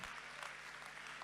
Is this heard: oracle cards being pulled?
no